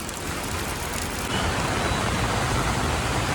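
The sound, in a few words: flooded Manimala river rushing after rain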